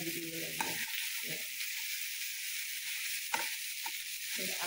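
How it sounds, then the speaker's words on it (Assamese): Vegetable cutlets fry in a pan with a continuous soft sizzle and crackle, joined by a few brief scraping stirs, fairly quiet with no talk over it. "এয়া ভাজা হৈ গৈছে 20 মিনিটমান ভাজা হৈছে"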